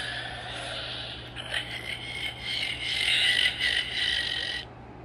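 A Theory Sabers Qui-Gon Jinn lightsaber gives a faint electronic hum with a crackling, sizzling rise partway through that cuts off near the end, quiet and close, with no talk.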